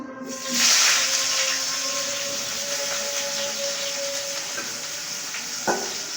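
Chopped onion dropped into a hot pan gives a bright sizzle that swells at the start and settles into a steady close frying hiss, with faint clinks from stirring.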